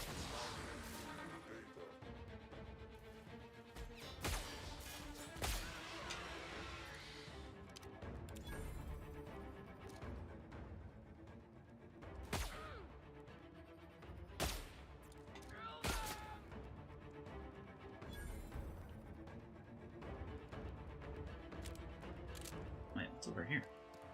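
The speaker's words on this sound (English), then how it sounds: "Oh, it's a turret." Automated turret firing in the Gorgon DLC of a video game, sharp gunfire bursts cracking out repeatedly over dense game noise and music while a person talks throughout.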